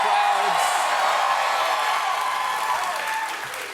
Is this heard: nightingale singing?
no